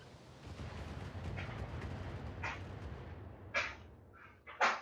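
Missile salvos firing in the mech strategy game Battletech, a rumbling rush followed by several sharp booming impacts near the end, louder and punchier toward the finish.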